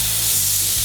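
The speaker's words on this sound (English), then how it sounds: "Now we're going to grill our flat iron steak." A steady, close, loud sizzle of flat iron steak searing on a hot grill, with a dense hiss throughout.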